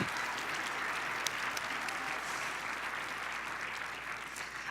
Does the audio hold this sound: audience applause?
yes